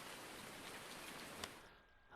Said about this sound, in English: And then all of a sudden it starts raining.